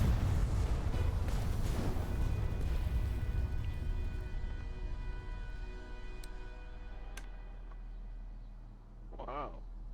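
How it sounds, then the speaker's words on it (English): Heavy cannon fire from a large flagship airship in a Kingdoms Adrift naval battle, a dense rumbling barrage of booms that fades over several seconds, with a few sharp clicks and a short spoken exclamation near the end. "Big cannon."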